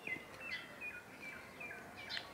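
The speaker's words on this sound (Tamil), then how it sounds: "அந்த இடத்துல நேரம் குருவி வந்துச்சு" A sparrow chirps outdoors with a few faint, scattered tweets at irregular intervals over quiet background ambience.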